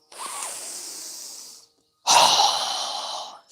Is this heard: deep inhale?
yes